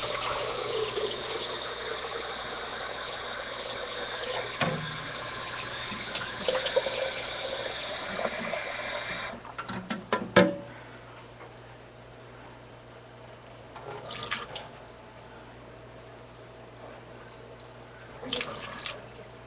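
Steady rush of water running from a kitchen tap for several seconds, then cutting off, followed by a few faint clinks and splashes.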